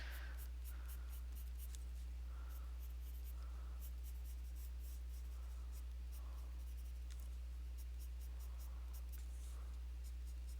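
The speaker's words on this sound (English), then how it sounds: "Trying to keep that pencil sharp." Colored pencil shading hair on paper, with soft, faint scratchy strokes in short repeated bursts over a low, steady electrical hum, very quiet and close.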